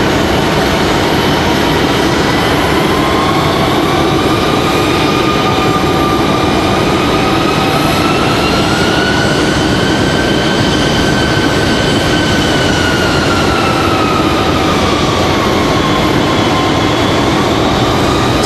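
A CRJ regional jet passes at Raleigh-Durham International Airport, a loud continuous engine roar with a rising and falling whine that sweeps smoothly across the whole stretch.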